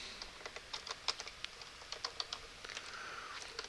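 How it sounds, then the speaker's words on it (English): Fingers type rapidly on a computer keyboard, giving a steady stream of close, crisp key clicks with no talking. "So you would make sure you start typing here."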